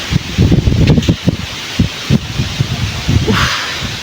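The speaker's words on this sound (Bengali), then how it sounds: "হাওয়াটা ভালো লাগছে কিন্তু ধুলো" Gusty outdoor wind carrying dust buffets the microphone in uneven low rumbling bursts over a constant airy roar, with no talking.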